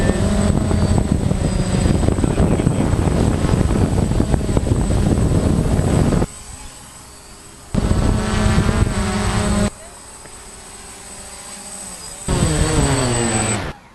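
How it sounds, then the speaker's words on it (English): A quadcopter drone flies over a city park in Worcester, its loud whining rotor buzz coming and going in bursts with quieter gaps between, while people talk nearby. "We get a drone up here."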